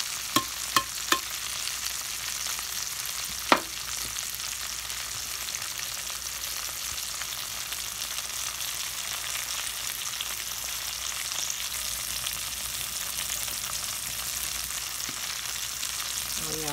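Onions stirred and frying in a pan, an even, constant sizzle throughout, with a few quick utensil knocks near the start and one louder clack a few seconds in.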